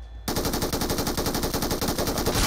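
Rapid automatic gunfire in a shooting video game, a dense continuous burst of close, loud shots that starts abruptly and runs to the end.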